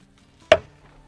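A single sharp knife chop through green onion on a cutting board, close and crisp, in an otherwise quiet setting at a lakeside camp.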